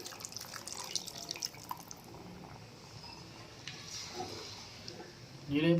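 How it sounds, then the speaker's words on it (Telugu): Tamarind juice trickles and splashes softly into a simmering fish curry, faint and close, with a louder pour at the very end. "ఇప్పుడు కొద్దిగా చింతపండు రసాన్ని అయితే వేసుకుందండి"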